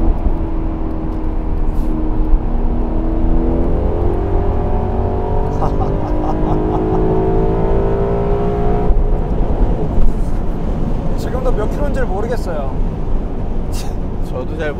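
Maserati GranTurismo exhaust note while driving: a steady engine drone with rising harmonics as it accelerates, loud and continuous, with people talking over it throughout.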